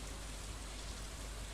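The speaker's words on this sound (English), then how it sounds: "It's been raining." Steady rain falling in the farming video game Stardew Valley, a soft, even hiss of drops on surfaces, quiet and continuous with no talk.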